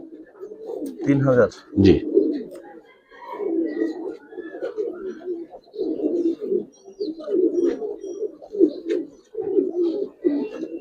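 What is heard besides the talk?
Giribaz pigeons cooing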